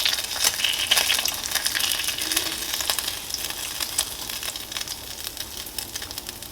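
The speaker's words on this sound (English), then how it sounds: "Pull my bacon out of the pan." Bacon sizzles loudly in a frying pan with dense crackling pops throughout, alone and close up.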